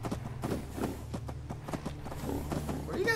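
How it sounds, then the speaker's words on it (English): Brahmin cows in Fallout 4 walk past with steady, overlapping hoof clip-clops at close range, over a low constant game hum, with a brief voice near the end. "Hello, lots of cows."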